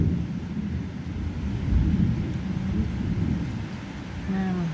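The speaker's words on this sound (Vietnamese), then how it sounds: "Trời mưa gió đùng đùng rồi." A thunderstorm with rain sets up a low, continuous rumble that swells around the two-second mark. Steady rain hiss runs underneath the whole time, and a faint brief tone appears near the end.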